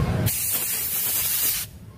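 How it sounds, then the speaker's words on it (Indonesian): Aerosol cleaner sprays in one loud, steady hiss onto a grimy Honda Vario 150 magneto, close up and lasting about a second and a half, with no talking over it. "Saya bersihkan dulu nih, semprot"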